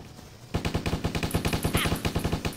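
Rapid automatic machine-gun fire in the zombie video game Stubbs the Zombie, a loud, steady burst of closely spaced shots that starts abruptly and runs continuously to the end.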